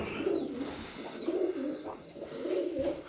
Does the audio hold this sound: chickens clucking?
no